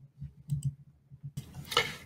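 Two quick, crisp mouse clicks on a search button in a real estate CRM web app, faint in an otherwise quiet room, followed by a brief burst of broader noise.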